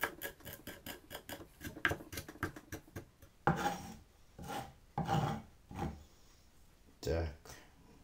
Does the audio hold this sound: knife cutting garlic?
yes